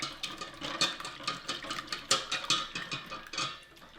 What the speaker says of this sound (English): I want to whisk this up